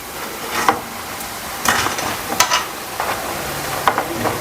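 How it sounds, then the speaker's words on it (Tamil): Ribbon pakoda deep-fries in hot oil, producing a lively crackling sizzle broken by several sharp scrapes and taps as the pieces are turned, close and fairly loud with no voices. "சலசலப்பு அடங்கிட்ட பிறக்கும் அதுக்கப்புறம் வந்து நம்ம எடுத்துக்கலாம்."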